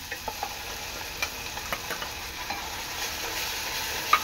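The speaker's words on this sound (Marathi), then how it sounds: "यामध्ये आता मी आपलं वाटण टाकणार आहे।" Ground masala paste hits onions already fried red in oil, setting off a steady sizzle with light, irregular scrapes and taps from stirring, plus one sharper clink near the end.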